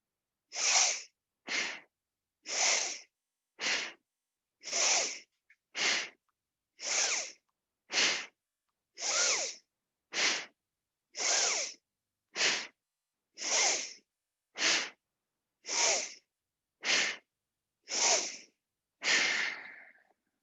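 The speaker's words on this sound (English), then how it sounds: "So we'll start with Brasrika. Forced inhale, forced exhale." Bhastrika breathing, a run of forceful nasal inhales and exhales in a steady rhythm, about twenty sharp, loud breaths spaced evenly with short silences between, close and alone.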